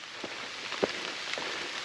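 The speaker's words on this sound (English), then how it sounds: "The rain's pretty light at this point" Light rain falls on a forested mountain trail, a faint steady patter with a few sharper drops striking nearby leaves or an umbrella.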